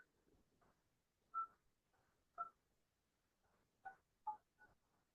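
Telephone keypad tones while dialing into a Zoom meeting by phone: about five faint, short beeps at uneven intervals over a quiet background.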